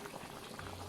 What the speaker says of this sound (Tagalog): Ayan, kumukulo na. So, isisimmer lang natin siya